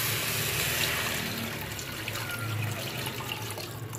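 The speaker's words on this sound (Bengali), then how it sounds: "গরম জলটা এখন খিচুড়িতে দিয়ে দেবো" Hot water pours into a pot of khichuri, a steady broadband splash and trickle that holds for about four seconds, close and fairly loud with no speech.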